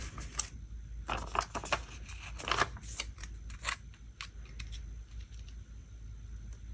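Scissors trim paper for decorating planner pages, a series of quiet, close, crisp snipping cuts in irregular bursts, with light rustling between them.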